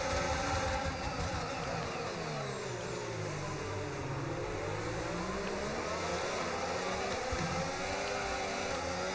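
Formula 1 race cars in the F1 25 racing game, a continuous high-pitched engine whine with rising and falling revs through gear changes, steady and close throughout with no talk.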